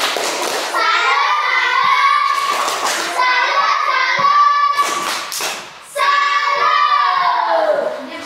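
Classroom group performing a tepuk salut clap chant in an Indonesian-language lesson, with loud rhythmic clapping and children's chanting voices running almost continuously, briefly dipping before a final burst.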